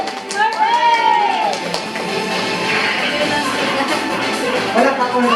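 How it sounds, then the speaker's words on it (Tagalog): Children and guests at a Filipino child's fourth birthday party clap together in a loud, steady burst, mixed with cheering and an adult voice calling over the noise. "Palakpak muna tayo dyan."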